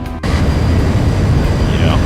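Loud, steady jet engine roar from a Boeing P-8 Poseidon in the X-Plane 11 flight simulator, heard from an external view; a brief quieter moment at the start, then continuous dense broadband rumble.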